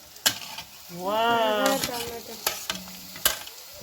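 Meat stir-fried in a pan with ginger, garlic, green chili and carrot, with sharp scraping stirs over a soft sizzle and a brief voice partway through.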